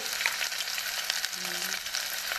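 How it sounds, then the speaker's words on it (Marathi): Onion and green chili fry in hot mustard oil with cumin, giving a dense, continuous, close sizzle with a few faint stirring scrapes and no speech. "आता मी टाकणार आहे ह्याच्यात कांदा कांदा हिरवी मिरची"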